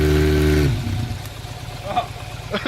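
A Honda Nighthawk motorcycle, sitting idle for two years, runs after a jump start: a loud engine rev opens, then a steady lower idle rumbles on continuously.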